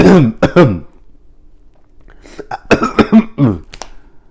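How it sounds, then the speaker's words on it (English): Several sharp coughs and throat-clearing bursts, close up, in two clusters separated by a short quiet pause. "It's like when I talk, I start to cough."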